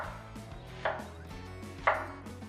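A knife slicing vegetables thin for coleslaw on a cutting board, two sharp distinct cuts over a quiet background with no talk.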